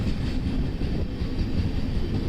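An express train rumbles steadily across the Aroor to Kumbalam railway bridge over Vembanad Lake, heard from on board as a continuous low, dense rolling roar without breaks.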